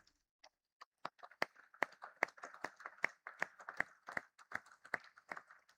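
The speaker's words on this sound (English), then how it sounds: "can we have another round of applause for the family who stood behind the man and the Leap family?" A small audience at a Leap India Limited corporate event claps for an honoree's family, starting with a few scattered claps that build into quick, uneven applause, fairly faint and distant.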